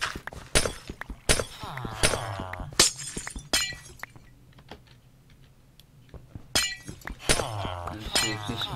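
Glass blocks shattering in Minecraft, a series of sharp crisp breaks in irregular bursts with a quiet gap in the middle, and a voice talking between them.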